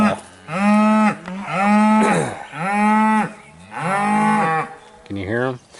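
Several long, loud cow moos from a hillside pasture, one after another with short gaps, close by and with no talking.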